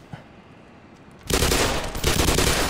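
Rapid bursts of gunfire in the video game Black Mesa, quiet at first and then a loud, sustained volley of shots filling the second half.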